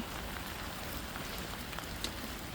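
Steady rain falls on a vegetable garden planted with chili peppers and eggplants, a soft even hiss of drops with no voices.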